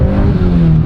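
An old Honda car engine revs hard and loud in a brief, close burst, its rising whine held for under a second with no voices.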